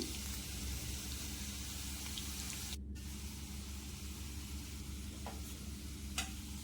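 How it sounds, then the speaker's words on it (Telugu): Bitter gourd deep frying in hot oil gives a steady, fairly quiet sizzle with a low bubbling hum beneath it, running unbroken through the whole stretch with a few faint sharp ticks and no voices. "మనం ఇక్కడ కాస్త డీప్ ఫ్రై చేస్తున్నాం కదండి."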